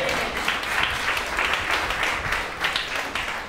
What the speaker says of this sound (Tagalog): Iba ang palakpak ng mga boys natin